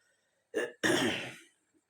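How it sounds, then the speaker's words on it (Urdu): Two harsh coughs from an elderly man with a sore throat, a short burst followed by a longer, rougher hack, close and loud with no talking. "کھانسی بھی بہت شدید آ رہی ہے"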